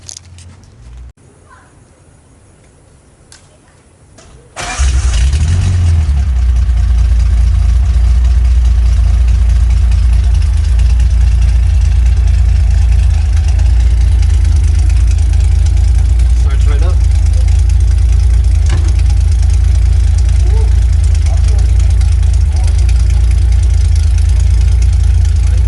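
A 1975 Datsun 280z engine cranks and catches after a few quiet seconds, then settles into a loud, steady low idle that runs on evenly and close up.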